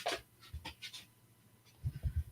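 A stretchy puppy pants in a few short breathy bursts close by, with low snuffling pulses near the end of the clip and no talk.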